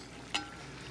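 Chopped garlic and pepper hitting a hot pan, a single brief sizzling burst that quickly fades to a faint, steady frying hiss, heard alone without talk.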